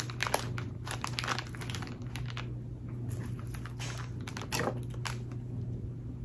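Tape being pulled and pressed to fix a hot chocolate packet onto a set of markers during a craft project, heard as close crinkling, ripping and tapping sounds in irregular bursts over a steady background hum.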